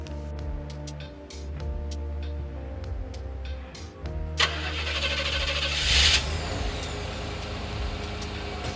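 Camper van engine idling with a rough, rhythmic mechanical ticking, then catching and revving into a louder, fuller roar that holds steady, with no talking.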